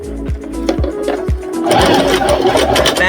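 A sewing machine stitches a line on an elastic tutu, its needle thumping in quick regular beats that speed up into a louder, denser whir partway through.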